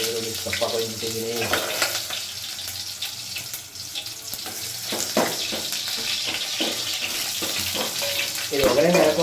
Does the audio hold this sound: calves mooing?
no